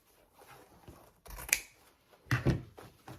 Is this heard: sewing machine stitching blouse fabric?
no